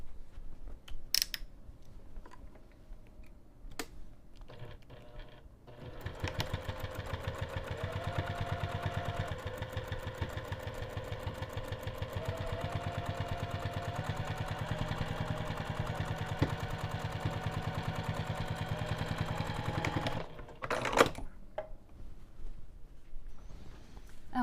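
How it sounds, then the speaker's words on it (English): A sewing machine stitches the sides and bottom of a bag flap at a 3 mm stitch length, running steadily for about fourteen seconds with a fast, even whir, framed by a few sharp clicks before and after. "I'm going to take this over to the sewing machine"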